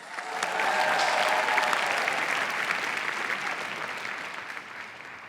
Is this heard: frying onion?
no